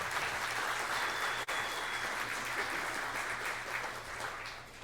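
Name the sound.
applause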